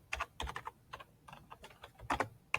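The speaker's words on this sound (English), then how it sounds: "I hate typing. Really hate typing." Rapid, uneven clatter of keys on a computer keyboard, close and alone, tapping in short bursts as a registration form is filled in.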